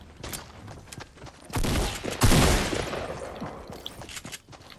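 Bursts of gunfire in Fortnite, a few scattered shots, then a dense loud volley in the middle, fading into lighter pops, close and sharp.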